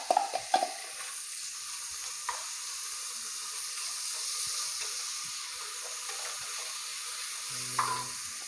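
Crushed small shallots sauté with ginger and garlic in a pot, a soft steady sizzle with a few sharp stirring knocks at the start and near the end, no voices.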